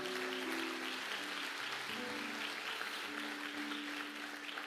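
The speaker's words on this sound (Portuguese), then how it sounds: "Aplauda ao Senhor, aplauda ao Senhor." Congregation clapping during a church sermon, a continuous wash of many hands at moderate distance, with faint sustained tones from music or a voice running underneath.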